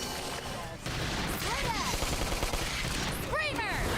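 Gunfire in the Xenoblade Chronicles X game: dense, continuous rapid shots and blasts fill the scene loudly, with sweeping whistling sci-fi effects layered over the barrage.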